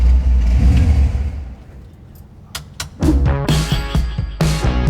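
A Ford Falcon starting inside a lobby, a low rumbling engine that fades, then cranks and catches at about three seconds, followed by sharp, loud revs echoing off the hard interior walls, with no voices.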